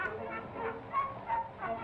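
A cartoon bird call from a Disney animation, made of a run of honking, goose-like squawks that rise and fall in close succession at a fairly steady loudness.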